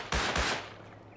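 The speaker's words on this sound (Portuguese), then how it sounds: "Nossa, mas tá tendo tiro aqui também, hein?" Gunfire in Rust sounds as two quick, loud cracks in close succession, followed by a fading tail.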